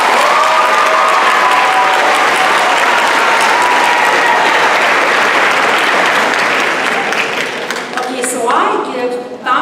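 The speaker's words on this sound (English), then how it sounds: "Give yourselves a round of applause." The 2017 graduating class at a school graduation ceremony applauds themselves in a large crowd, loud dense clapping with cheers filling the hall steadily before gradually thinning out near the end.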